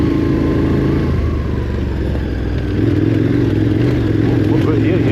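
A KTM 1290 Adventure R motorcycle, 160 horsepower, climbing a gravel bush trail in Australia, its engine droning loud and steady close up, pitch shifting as the throttle changes.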